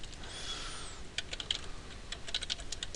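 Quick, irregular keystrokes on a computer keyboard as a new material name, Carved Stone, is typed into Renditioner v2 rendering software; close, crisp clicks in short bursts after a brief quiet start.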